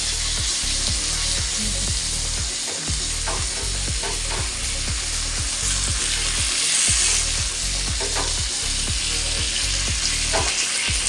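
Pomfret fish fries in plenty of oil after being flipped, giving a loud, dense, continuous sizzle that holds steady throughout with a faint regular low thumping beneath.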